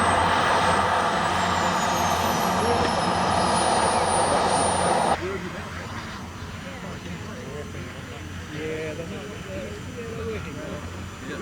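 A large jet-powered radio-controlled model plane's turbine, a loud high whine and roar that cuts off abruptly partway through, leaving quieter outdoor ambience with some faint talk.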